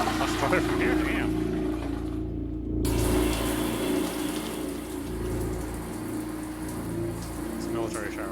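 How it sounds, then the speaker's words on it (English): A military shower runs in the Prey video game, a steady hiss of spraying water with a low pump-like hum that continues the whole time while someone talks over it. "Let's take a shower first, because I'm not a heathen."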